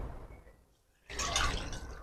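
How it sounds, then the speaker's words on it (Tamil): Water pours and splashes over prawns, fish and crab being washed by hand, a loud burst of pouring starting after a quiet moment and continuing steadily. "இப்ப நம்ம தண்ணி ஊற்றி கழுவிப்போம்"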